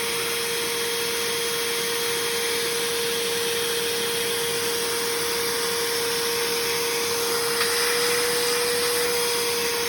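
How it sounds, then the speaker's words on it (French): A loud, steady motorized whine from a Bissell carpet shampooer, like a vacuum cleaner, runs continuously, with a constant high-pitched hum over broadband noise. "ça fait vraiment le même bruit qu'un aspirateur"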